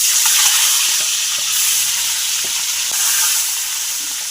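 Duck eggs frying in a pan for an egg curry with new potatoes, a steady bright sizzle running throughout with a few faint clicks from the pan, close and fairly loud.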